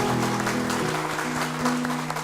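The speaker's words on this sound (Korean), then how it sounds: "찬양받기 합당하신 주님께 다시 한번 큰 박수로 영광을 올리겠습니다." A church congregation applauds during a worship service, brisk clapping from many hands over sustained organ or keyboard tones, moderately loud, with no speech.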